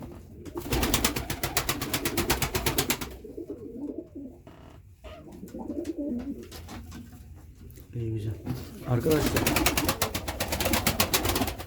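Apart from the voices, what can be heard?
pigeons cooing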